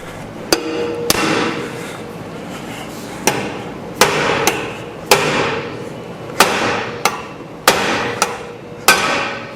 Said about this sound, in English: we'll put the lug nuts back on these, just so we don't mushroom out the heads, and start pounding away